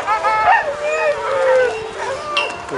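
Sled dogs at the start line of the Beringia 2019 race in Kamchatka howl and yip in rising, wavering, overlapping cries, loud and close, one excited voice after another.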